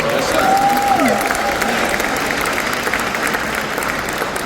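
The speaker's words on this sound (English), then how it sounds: "I just want to give a huge round of applause." A library audience at a hip hop philosophy talk applauds, dense sustained clapping that fills the whole stretch at fairly close range.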